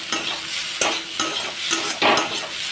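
Beaten egg fries in a hot pan with turmeric and ginger for egg paratha, a loud close sizzle with rhythmic spatula scrapes and stirring taps.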